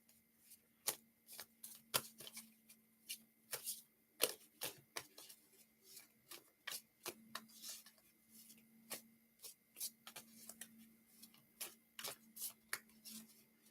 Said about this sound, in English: Let me shuffle this really quick.